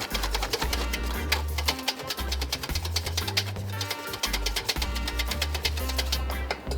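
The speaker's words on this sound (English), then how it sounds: "By me whisking egg white." A rapid, continuous mechanical whirr of an electric mixer whisking egg white in a home kitchen, loud and close with a low motor drone that briefly dips in pitch, and no voices.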